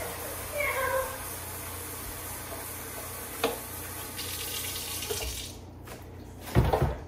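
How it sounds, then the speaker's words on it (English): Fresh water running from a tap into a container on a farm while washing gear for a Dexter milk cow, a steady hiss under the whole stretch, with a cat meowing early and clattering handling noises near the end. "and then I get some fresh water."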